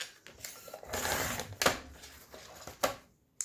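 Scissors snip through a small paper journal page being cut into a tag, giving a run of close, crisp cutting sounds with brief pauses and a few sharper snips near the end.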